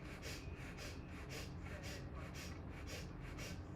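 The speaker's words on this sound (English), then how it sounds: "Breath of fire." Rapid, rhythmic breath of fire during an intense yoga pose with legs raised straight up, short forceful nasal exhales pulsing about three times per second, steady and close, with no talking.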